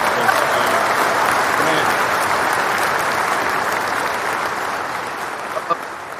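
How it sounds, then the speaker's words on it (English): A crowd claps in sustained applause, dense and steady, gradually tapering slightly toward the end. "Let me get y'all a round of applause"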